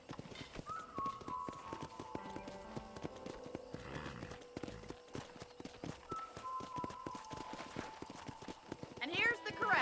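Horse hooves in Red Dead Redemption clip-clop at a steady walking rhythm near a ranch corral, quiet and close. A brief whinny and some background music come through, and someone talks over the hoofbeats.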